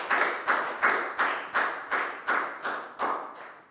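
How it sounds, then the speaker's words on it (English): A classroom of Year 4 students claps in unison for a classmate, about nine sharp, evenly spaced group claps that ring close and clear with no talking over them. "a big round of applause for Bang on"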